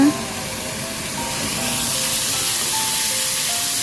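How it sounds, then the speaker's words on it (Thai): Ingredients stir-fried in a pan with pepper and light soy sauce for a Thai baked pork belly and glass noodle dish: a loud, steady hiss that swells slightly after the first second and holds. "คั่วให้หอมๆกันนะคะ"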